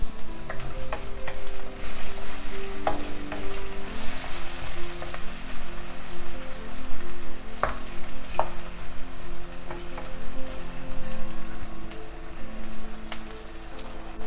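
Tomato, spinach and Thai and jalapeño chilies frying in a pan for spicy fried rice with eggs, a dense, continuous sizzle with occasional clicks from stirring, close and steady.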